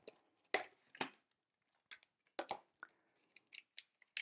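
Paper scraps being cut with a handheld rotary cutter on a sheet of paper, giving a series of short, dry crisp cuts and clicks spaced irregularly, close and fairly quiet with no talking.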